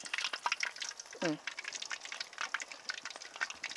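An egg and onion cutlet fries in oil in a pan, giving a steady crackling sizzle that runs throughout, with a brief spoon or spatula scrape partway through.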